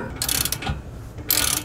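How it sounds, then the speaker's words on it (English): A torque wrench fitted with a 15/16 inch socket tightens the top bolt of a Blue Ox gooseneck-to-fifth-wheel hitch adapter, giving two bursts of close mechanical ratcheting separated by a quieter gap. "Grab your torque wrench with a 15/16 inch socket on the top and we need to torque down this top bolt right here"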